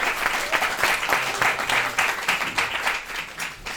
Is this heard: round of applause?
yes